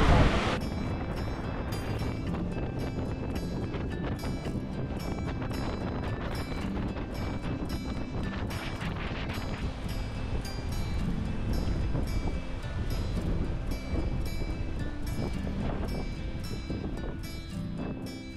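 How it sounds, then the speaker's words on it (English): A sailboat runs downwind in 7 to 8 knots of breeze, with constant wind buffeting and rushing water across the whole stretch, loud and close, with no clear voices. "sailing downwind, 7 or 8 knots of breeze."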